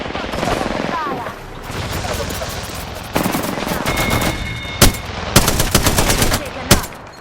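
Rapid automatic gunfire rattles in Apex Legends Season 8, with continuous bursts of shots followed by several sharp, louder single cracks and short volleys near the end.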